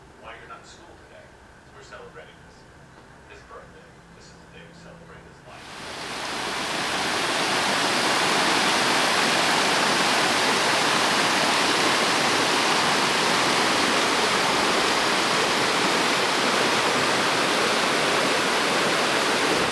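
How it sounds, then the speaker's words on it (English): Waterfall at a swimming hole in the Amazon rainforest of Ecuador, heard as a loud, steady roar of rushing water that swells in after a few seconds of quieter forest ambience and then holds constant and close. "So I'm at a waterfall slash swimming hole here in the Amazon rainforest in Ecuador."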